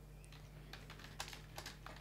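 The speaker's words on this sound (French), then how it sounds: "On entend que le clavier" A computer keyboard clatters faintly with scattered, irregular keystrokes over a low steady hum, with no one talking.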